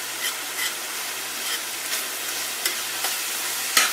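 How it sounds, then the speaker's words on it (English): Onions and ground beef fry together in a pan with a constant bright sizzle, broken by soft periodic scraping stirs and a sharper clack near the end, close and without voices. "I have just added the onions, and I am cooking that together with the ground beef"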